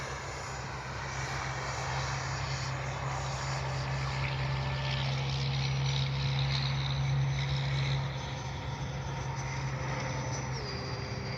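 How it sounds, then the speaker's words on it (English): A Freewing F/A-18C 90mm electric ducted-fan RC jet in Blue Angels livery flies overhead with a loud, steady rushing roar and whine that holds for most of the clip before easing slightly. "Man, what a beautiful locked-in jet."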